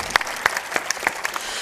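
An audience claps during a Hindi-language religious sermon, sparse individual hand claps popping irregularly and fairly close rather than a dense ovation.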